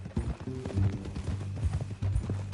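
Horse hooves clip-clop at a steady walking rhythm in Red Dead Redemption 2, close and clear with faint background ambience.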